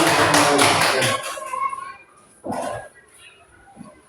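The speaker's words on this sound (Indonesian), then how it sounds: "tepuk tangan dulu" A classroom group claps for about a second, then the applause dies away. Children's voices and a few scattered taps follow.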